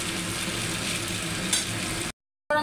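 Egg chow mein is stirred in a hot pan, giving a steady, close sizzling and frying hiss with soft scraping that runs evenly, then cuts out briefly before resuming at the end.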